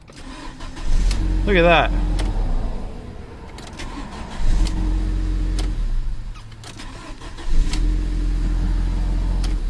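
A 2005 Audi A4 1.8T with a misfire and rough running cranks and fires up, then settles into a steady idle with a few revving swells, close by, while a person briefly speaks over it.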